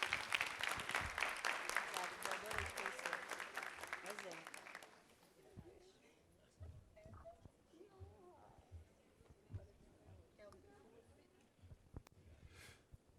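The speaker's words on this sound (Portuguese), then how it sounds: "Palmas para eles." A seminar audience bursts into lively clapping for about five seconds, then it cuts off, leaving murmuring voices and a few faint scattered sounds in the room.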